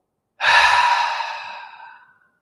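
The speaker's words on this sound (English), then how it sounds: "take a big breath in through the nose. Let the breath go." A single deep breath is let out slowly during a breathing exercise, a close, breathy exhale that starts strong and fades gradually to silence.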